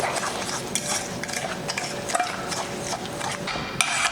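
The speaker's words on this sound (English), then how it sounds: "whisk it together with your fork to get the sugar all wet" A fork whisks Kerrygold Irish butter and sugar together in a bowl for banana bread, producing steady scraping and clinking strokes against the dish, close and continuous with no talking.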